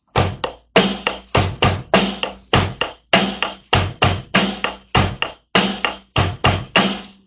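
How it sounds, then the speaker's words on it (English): A steady, driving straight 4/4 drum beat with punchy, evenly spaced hits in a regular four-count groove, loud and close, no voices. "We've covered doing the straight 4/4 drum beat"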